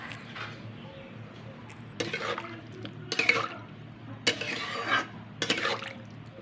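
Chili powder stirred into water in a pot of pumpkin, heard as several separate metallic clinks and scrapes of a spoon against the pot, with soft liquid sloshing between them, then a lid set on, fairly close and quiet.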